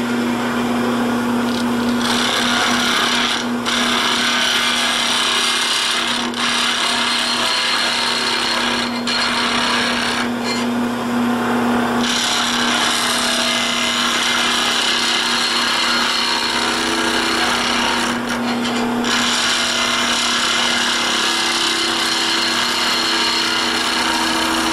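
A wood lathe spins steadily while a skew chisel cuts a bottle stopper, giving a continuous loud motor hum under a scraping, rasping cut that pauses and resumes several times, with no talking.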